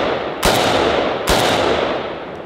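Two sharp AK Kalashnikov rifle shots, about a second apart, fired outdoors, each a loud broadband crack trailing into a long echoing decay over a steady noisy background.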